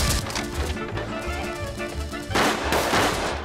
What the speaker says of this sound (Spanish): ¡Deja de disparar! ¡Guarda municiones!